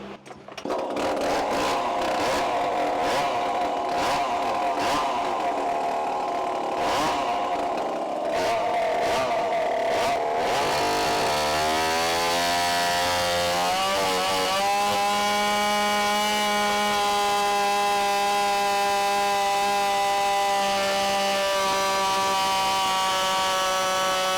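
A ported Poulan PR5020 chainsaw screams at full throttle on a dyno, loud and close, its steady high-pitched engine note shifting in pitch as load changes, with harsh broadband roar throughout.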